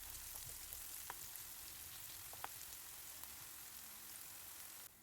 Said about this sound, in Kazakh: Пиязымызды жақсылап алтын түске енгенше жақсылап қызарып қуырамыз.